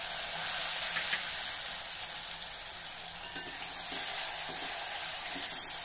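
Tomato frying in hot oil with asafoetida, turmeric and red chilli powder, sizzling steadily over low heat in a pan, a continuous bright crackle with occasional light stirring scrapes.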